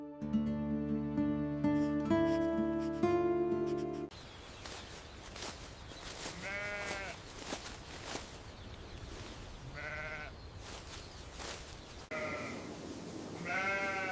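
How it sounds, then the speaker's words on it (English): After a few seconds of music, sheep bleat repeatedly, several wavering calls at irregular intervals, fairly close, over a soft outdoor background. "the sheep seem very content"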